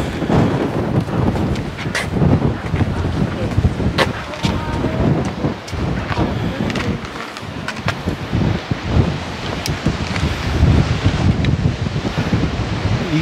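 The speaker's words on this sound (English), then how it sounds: "it's too windy." Strong gusting wind buffets the microphone on a coastal hiking trail near the Makapu'u Point lighthouse in Hawaii, a loud continuous roar with thumping gusts and surf faintly beneath.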